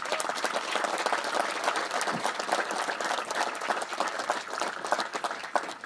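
A crowd applauds at a military change of command ceremony, sustained dense clapping throughout at a steady, moderately loud level with no talking over it.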